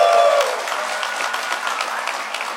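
Audience applause in a large hall at a hacker convention welcome session, a steady dense wash of many hands clapping throughout, fairly loud and continuous before easing slightly.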